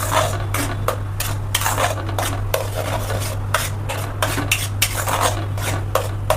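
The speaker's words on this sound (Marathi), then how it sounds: "आता हे जे मिक्सचर आहे हे आपण जोपर्यंत या मसाल्याला तेल सुटत नाही तोपर्यंत आपल्याला याला परतवून घ्यायचं" A metal spoon scrapes and clatters in a pan as a pav bhaji masala mixture is stirred and sautéed in oil, with rhythmic close scraping strokes over a steady low hum and no talk.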